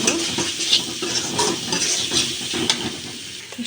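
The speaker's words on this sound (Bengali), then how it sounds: "তো এবার নেড়ে চেড়ে ভালোভাবে কষিয়ে নেব।" Dried puti fish being stirred and fried with chili powder, cumin and other spices in a pan, giving a steady close sizzle with repeated scraping strokes of a utensil against the metal.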